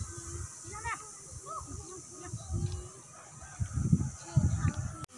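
A large duck gives honking, hissing calls at close range, several bursts growing louder toward the end, with people talking throughout.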